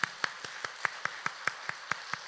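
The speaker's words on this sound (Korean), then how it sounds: "박수 한번 쳐줘요" Hands clap in a steady rhythm of about a dozen sharp, evenly spaced claps, at a quiet, somewhat distant level, during an evening revival service in a church sanctuary, with no talking over them.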